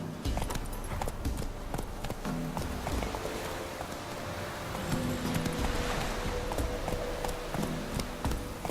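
Hooves of Roach, the horse in The Witcher 3, clip-clop in a steady walking rhythm over a soft outdoor ambience of rustling and a low hum, with no talking.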